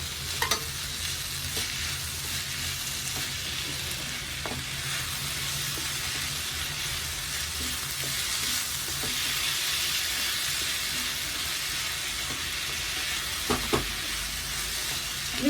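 Four chopped green chillies and a chopped tomato fry in a pan for an egg breakfast, giving a steady, close sizzle and hiss throughout, with a few scrapes of stirring near the end.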